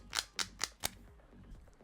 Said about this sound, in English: That was me shuffling, in case you're wondering.